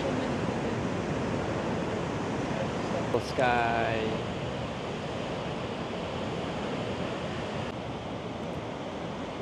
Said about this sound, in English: Look at the waves, guys.